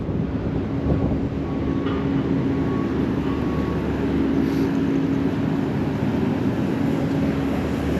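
A train rumbles steadily nearby at Helsinki railway station, a low continuous roar with rattling and faint tonal whines, no voices.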